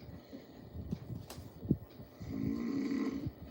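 A person snores on an old tape recording, slow rough breaths rising and falling faintly under tape hiss and low rumble, with one brief click partway through.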